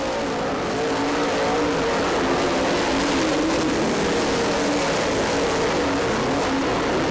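Race cars roaring around a dirt track during a race, a continuous loud engine drone that swells slightly as the pack passes, with no voices over it.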